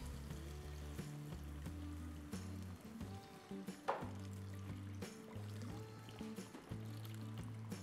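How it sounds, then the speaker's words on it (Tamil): Three-quarters of a litre of water is poured into a pan of simmering onion, tomato and masala for parotta salna, bringing a soft, quiet sizzle and splash with one brief louder gush midway. "முக்கால் லிட்டர் தண்ணி ஊற்றிட்டேன்"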